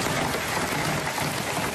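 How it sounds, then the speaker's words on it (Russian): Hail pelts down in a violent storm, hard enough to tear branches from trees, with a metal roof and cars nearby: a dense, steady, close roar of impacts with no break. "Минута града, из дерева не просто листья, ветви срываются."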